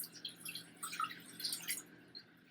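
Warm water, a cup's worth, pours into a bowl for bread dough, a light trickling and splashing with scattered drips, close and soft, lasting a couple of seconds with no talk over it.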